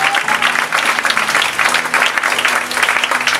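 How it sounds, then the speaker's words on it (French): A church congregation bursts into sustained, loud applause and cheering in acclaim of the Lord, a dense, steady wash of clapping hands with crowd voices filling the room. "Acclamez le Seigneur pour moi. Acclamez-le pour moi."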